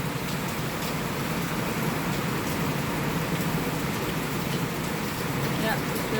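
Heavy thunderstorm rain pours down in a steady, dense, loud hiss outdoors in a yard, continuous throughout with no talking.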